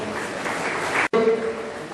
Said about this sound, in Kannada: ಗಟ್ಟಿ ಚಪ್ಪಾಳೆ